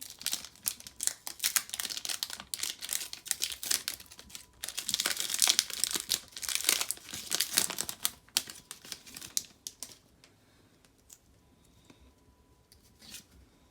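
Crinkly foil and card rustling as a Pokémon Radiant Destinies booster pack is torn open, a busy run of close crackles and tears that fades to quieter handling near the end.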